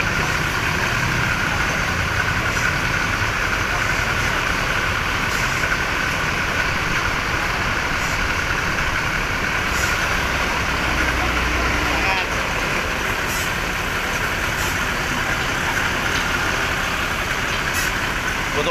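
An ALS bus engine idles steadily at a bus depot, a continuous broadband rumble with faint traffic in the background.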